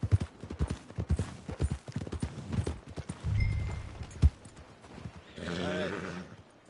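Horse hooves clip-clop in Red Dead Redemption 2 as a rider nears the stables, the steady trotting beats sitting under talk, with a brief whinny near the end.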